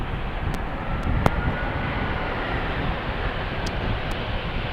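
An Iberia Express airliner arriving from Madrid at Amsterdam Schiphol roars in as a loud, steady broadband jet rumble, close and continuous, with a few sharp clicks but no talk.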